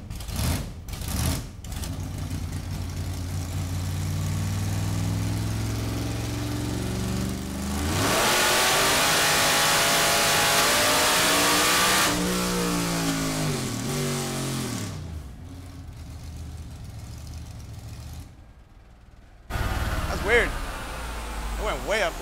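A car engine revs hard on a chassis dynamometer, climbing through a long pull with a gear shift partway, then easing off to idle; loud and close, with some talk at the start.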